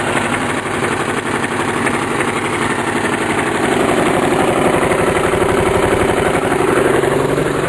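A lawn mower engine with a custom exhaust muffler idles steadily and loudly up close, a continuous low throbbing rumble that grows slightly fuller partway through, with no talking.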